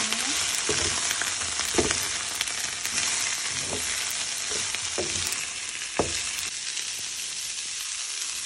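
Broccoli stir-fried and tossed in a hot pan gives a steady sizzle, with periodic scraping and stirring clatters of the utensil against the pan.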